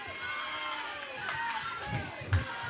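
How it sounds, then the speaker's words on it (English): A wrestling crowd cheers for the Posse during a House of Horrors match. The noise is a fairly quiet, steady murmur, and a few dull thuds land near the end. "Simon's getting fired up as he hears the crowd cheer him on."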